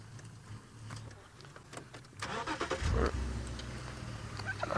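A safari vehicle's engine idles and rumbles steadily throughout, swelling louder partway through as it revs, with faint voices mixed in on an outdoor wildlife drive.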